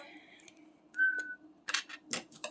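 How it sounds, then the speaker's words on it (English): A few short, quiet whistled notes rise and fall, separated by pauses and scattered soft clicks. "What song are you whistling?"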